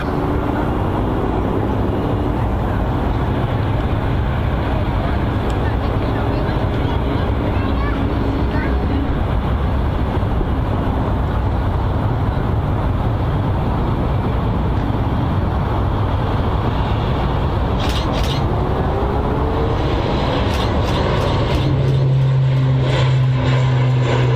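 A propeller aircraft's engine drones loudly and steadily as it rolls down the runway for takeoff at Manchester Airport, with people talking over the noise.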